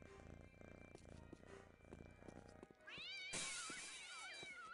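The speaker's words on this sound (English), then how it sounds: "What the fuck's with that cat?" Cat meows from the video game Postal 2, a drawn-out harmonic yowl rising over game background noise in the second half, loud and close.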